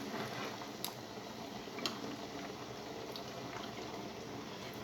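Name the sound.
heated broth being poured into rice pan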